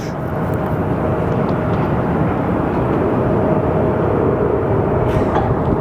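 A Sun Country Airlines passenger jet at Phoenix Sky Harbor Airport gives a loud, steady broadband engine roar that holds for several seconds without a break, with no talking over it.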